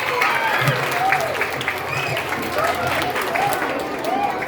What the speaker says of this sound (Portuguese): palmas para o Gustavo.